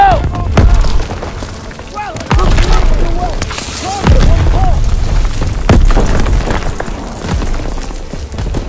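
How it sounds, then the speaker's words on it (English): A grenade goes off in the Call of Duty: WWII PC game, one of several heavy booms that punctuate steady gunfire and battle noise, with game voices calling out between the blasts. "Grenade out!"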